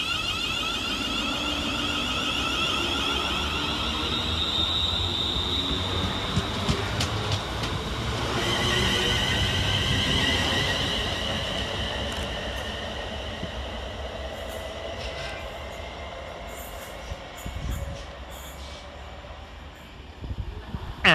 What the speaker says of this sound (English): Next train out for departure is V350-243 with the 1512 West Midlands Railway service from Wolverhampton to Walsall.